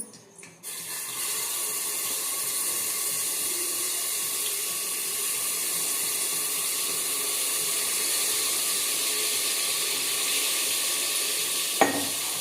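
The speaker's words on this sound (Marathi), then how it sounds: "अद्रक लसूणची पेस्ट टाकत आहे" Ginger garlic paste drops into a hot pan and sizzles in a steady, even hiss throughout, with a single sharp clink near the end.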